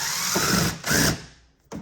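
A power drill bores out the centers of pins during a Whipple supercharger install on a Challenger, two loud bursts of whirring drilling with a short pause between, then a brief third start at the end.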